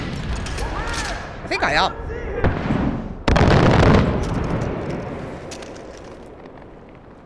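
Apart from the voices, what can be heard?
mortars firing and exploding in video game Far Cry 4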